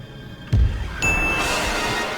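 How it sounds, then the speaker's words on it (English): In a Resident Evil-style horror game built in Unity, a bright ding rings out after a low thud, its clear tone sustaining briefly over a dark ambient background. "For some reason it plays a ding noise."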